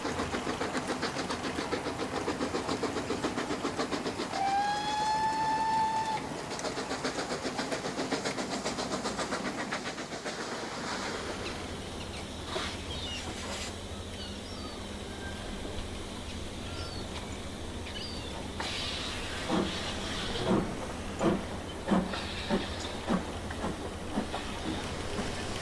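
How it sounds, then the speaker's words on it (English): Steam locomotive 75073 hauls a mixed goods train of coal wagons, petrol tank wagons, a fish van, tankers and concrete hoppers, with a whistle early on, then a steady rumble and rhythmic clanks of wagons passing close. "She's hauling an interesting goods train of coal for the coal depot, petrol tank wagons, a fish van, and more Ronnet tankers,"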